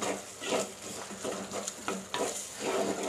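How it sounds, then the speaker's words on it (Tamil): Tomatoes stirred and sautéed in a pan for a sardine curry, a quiet hiss with soft scraping stir strokes in a slow rhythm, close and with no talking. "நல்லா தக்காளியும் வதங்கட்டும்"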